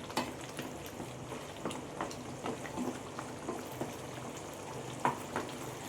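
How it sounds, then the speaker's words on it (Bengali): Mutton kosha is stirred in a pan, a soft low sizzle under scattered scraping and tapping of the spoon against the pan, fairly quiet and steady with no talking. "এবার আবারও মাংসটা আমি ভালো করে একবার নাড়াচাড়া করে নেব"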